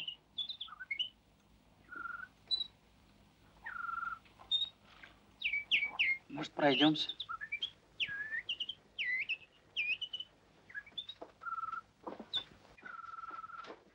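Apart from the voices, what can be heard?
nightingale singing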